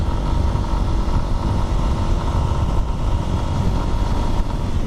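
A Lifan fuel-injected motorcycle engine runs on a windy outing, a loud, dense, steady drone with buzzing low end and wind rush, close to the microphone throughout.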